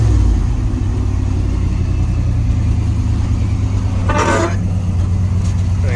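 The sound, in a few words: truck engine running with damaged exhaust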